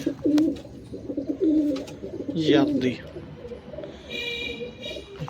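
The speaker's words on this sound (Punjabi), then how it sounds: "ਇਹ ਚੀਨਾ ਇੱਕ ਕਬੂਤਰ ਹੀ ਹੈਗੀ ਆ" Pigeons coo in low, throaty bursts close by, repeating through the clip while a person talks over them.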